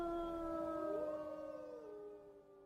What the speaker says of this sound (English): the sound of howling grew on the air